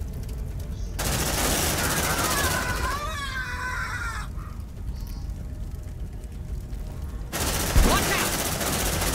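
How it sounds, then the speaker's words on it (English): An automated sentry gun in Aliens: Dark Descent fires in sustained rapid bursts, loud and dense, with a break in the middle filled by other in-game sounds and distorted radio-like voices before the firing resumes. "Sentry gun activated."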